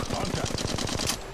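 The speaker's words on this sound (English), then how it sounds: "They're shooting at me." Rapid automatic gunfire in the Apex Legends battle royale game, a fast steady stream of close, loud shots lasting the whole brief moment.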